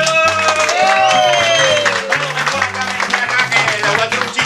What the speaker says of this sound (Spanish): Pues vamos a darle un fuerte aplauso a Wilfredo.